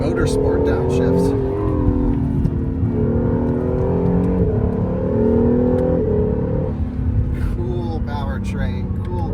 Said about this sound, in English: Those downshifts are intoxicating.